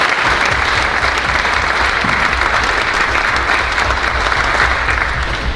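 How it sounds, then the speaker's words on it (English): An audience at a film screening Q&A breaks into dense, loud, sustained applause that holds evenly for several seconds without letup. "Please give her a round of applause."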